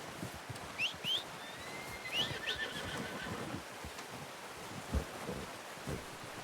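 A horse in the video game Red Dead Redemption 2 neighs and whinnies in several short bursts over quiet wind and occasional hoof clops, fairly close and without speech.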